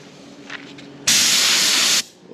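Varnish mixed with thinner and hardener sprayed from an airbrush or spray gun onto a 1:18 scale taxi model, a short faint hiss first and then a steady loud one-second burst that cuts off sharply.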